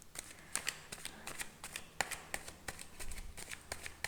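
A deck of tarot cards is shuffled by hand in quick, crisp riffles and flicks, a close, rapid series of sharp papery snaps with no talk.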